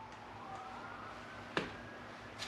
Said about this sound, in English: sounds like some very close police sirens